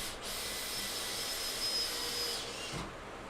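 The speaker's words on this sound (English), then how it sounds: "it's picking up Danny's dumbass drill." A power drill bores into a wall, making a steady, quiet high-pitched whine that holds for a couple of seconds and then stops, with a brief low knock near the end.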